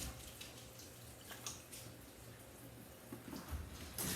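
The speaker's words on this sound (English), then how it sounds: "I'm washing them really well." Cucumber pickles being washed by hand in a filled sink, with steady soft water sloshing and splashing, occasional louder splashes and drips, close and alone without talk.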